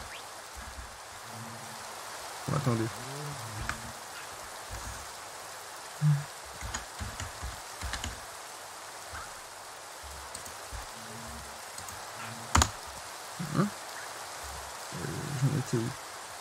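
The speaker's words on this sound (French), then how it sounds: "Ah merde, il pleut." Rain falling in a shader-modded Minecraft world, a steady soft hiss of rainfall throughout, with someone speaking French in short bursts over it.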